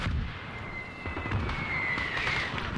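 Booming artillery barrage explosions rumble through a Call to Arms Cold War battle between USSR and Chinese forces, a dense wash of blasts and crackling fire sustained throughout, with a thin whistling streak rising over the din.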